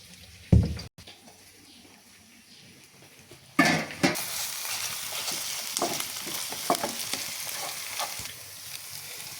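Egg frying in a pan with boiled noodles and vegetables: a brief clatter, then a loud burst of sizzling that settles into steady crackling frying with occasional utensil scrapes, close up.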